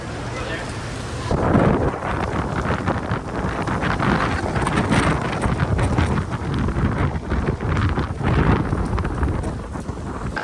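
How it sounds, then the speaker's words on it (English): Strong wind roars and buffets the microphone continuously, with gusting noise and rain-like hiss throughout a stormy outdoor scene at Walt Disney World, Florida. "It was still windy and rainy"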